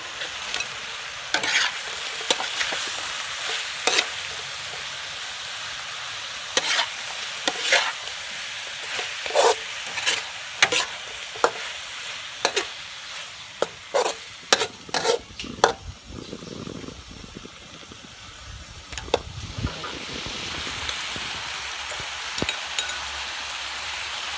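Pig blood and tofu stir-fried in a pan sizzle steadily while a utensil scrapes and clacks against the metal in irregular strokes, close and clear with no talk.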